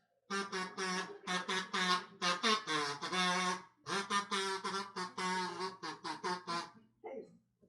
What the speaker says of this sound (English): everybody's kazoo playing is unique to your personality and your voice